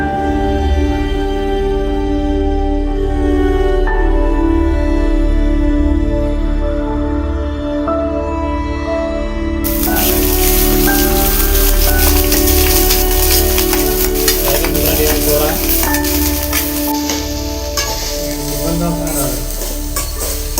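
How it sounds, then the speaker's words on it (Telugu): Cumin seeds dropped into hot oil crackle and sizzle steadily and loudly for a long stretch, a dense frying hiss with clinks of stirring over a constant low hum. "ఆయిల్ వేడెక్కిన తర్వాత అందులో కొంచెం జీలకర్ర వేసుకోండి"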